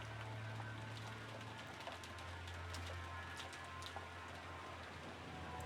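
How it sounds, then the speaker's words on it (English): Steady rain patters continuously, a soft even hiss with scattered drop ticks, faint and unbroken throughout, with a low hum underneath and no voices. "I love the sound of rain."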